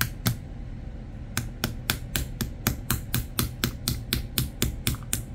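Screwdriver tapping a bearing out of a small drone motor, a steady series of about sixteen sharp metallic taps at an even rhythm, close and crisp, with no talking.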